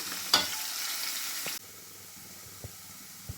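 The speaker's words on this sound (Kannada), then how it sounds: "ಈರುಳ್ಳಿ ಹಾಕ್ಕೊಳ್ಳೋಣ ಈರುಳ್ಳಿ ಚೆನ್ನಾಗಿ ಫ್ರೈ ಆಗಲಿ" Onions fry in a pan: a loud, bright sizzle bursts as they hit the hot oil, then settles into a softer, steady hiss broken by a couple of light stirring taps.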